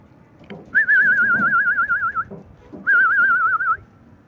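Domestic pigeons on a rooftop give two long warbling, whistly calls, the first about a second and a half and the second shorter, clear above a low rustling background with no one talking.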